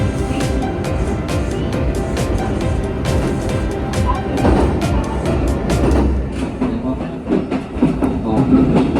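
A JR Kansai Main Line train rolls past close by, wheels clattering rhythmically over the rails with a loud, rumbling roar, and a voice speaks briefly underneath.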